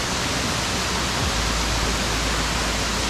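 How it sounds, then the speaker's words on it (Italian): The Pissandro waterfall near Nebbiù, Pieve di Cadore, a roughly 30-metre drop that breaks partway down, heard from below as a loud, steady, unbroken roar of falling water. "Ecco la cascata del Pissandro vista da sotto, un salto d'acqua di circa 30 metri"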